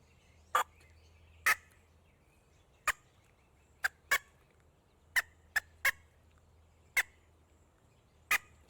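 Short, sharp chirps blown on a hand-held squirrel hunting call, a voice-like imitation of a squirrel: about eleven separate bursts spaced irregularly over several seconds, clear and close against a quiet background.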